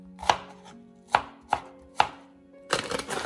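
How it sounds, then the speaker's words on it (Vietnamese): Knife mincing shallots on a cutting board, four sharp separate chops spaced about half a second apart, then a denser burst of rapid chopping at the end, close and clear with no talking. "Hành tím thì mình băm cho nó nhuyễn ra để mình đem đi xào cho nó thơm á"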